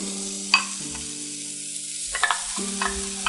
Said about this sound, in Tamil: இப்போ நம்ம கடாயில் தேங்காயை வறுத்துக்கலாம்.